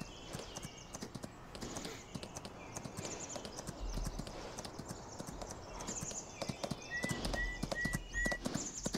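Horse hooves clip-clopping in the video game Farming Simulator 2019, a steady rhythm of light hoof beats with faint game ambience and a few short chimes.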